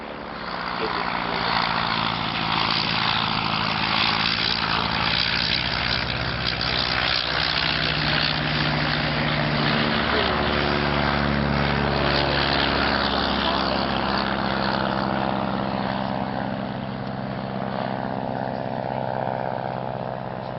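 Four vintage propeller planes fly at the Shuttleworth Collection, Old Warden, England, their engines droning loud and continuous throughout, with a voice speaking over them at times.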